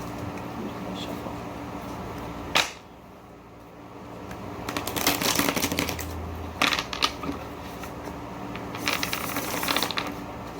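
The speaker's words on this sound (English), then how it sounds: "I'm just gonna shuffle." Tarot cards riffle and shuffle in several quick, crisp bursts, close by, separated by brief quiet pauses.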